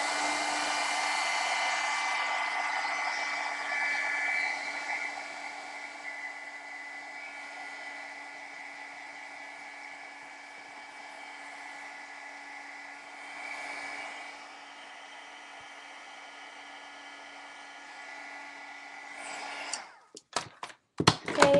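A hair dryer blows on a painted banner, a steady close whirring roar that dips slightly midway, then cuts off with a few clattering knocks at the end.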